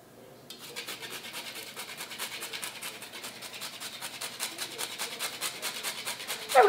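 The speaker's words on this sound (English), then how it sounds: "I have whole nutmeg, of which I will be grating" Whole nutmeg is grated for an apple cider bundt cake, a close, rhythmic rasping of quick repeated strokes that grows slightly louder toward the end, with no talking.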